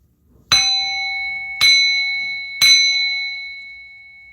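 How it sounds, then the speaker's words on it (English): A bell is struck three times at about one-second intervals to clear energies. Each strike gives a bright, loud metallic ring that sustains and slowly decays, overlapping the next strike, and no one speaks. "I'm going to bang this bell to remove and clean out the energies that be out here"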